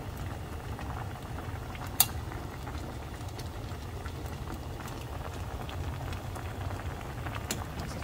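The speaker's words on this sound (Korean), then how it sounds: "조금 더 많이 졸여야지 이제 조기의 맛이 진짜 배어들게요" Yellow croaker fish stew with onion simmering in a pot, a steady soft bubbling boil throughout with one brief sharp clink near the start, no voices.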